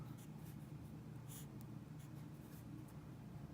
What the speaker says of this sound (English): So let's write this out.